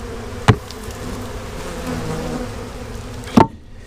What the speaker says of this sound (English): I got bees over here.